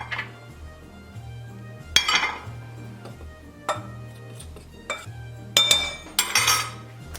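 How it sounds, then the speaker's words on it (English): Flour and salt being mixed in a separate bowl: scattered clinks and taps of a utensil against the bowl, irregular and close, over a faint steady hum, with no talk. "in a separate bowl, I'm going to mix up my flour"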